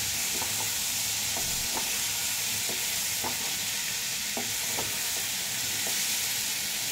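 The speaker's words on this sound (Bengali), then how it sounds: "এইবার আমি সব সবজিগুলো সব ঢেলে দিলাম। এইবার আমি কষাবো" Mixed vegetables sautéing with spices over high heat in a pan, a loud continuous sizzle broken by repeated stirring scrapes and knocks, with no voices.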